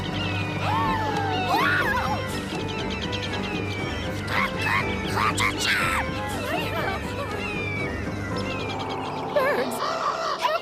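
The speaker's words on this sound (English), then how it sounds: "Birds everywhere." A crowd of cartoon birds squawks, clucks and crows in overlapping bursts throughout, set over a busy, steady background din.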